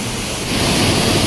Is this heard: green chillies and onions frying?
no